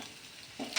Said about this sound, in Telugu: అది టర్న్ చేసేసుకున్నాము అంటే రెండో పక్క కూడా బాగా ఫ్రై అయిపోతుంది కదా